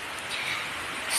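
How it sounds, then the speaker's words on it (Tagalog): Rain falls steadily outdoors among plants, a soft continuous hiss of drops on surfaces with no voices. "Ayan, umuulan na naman."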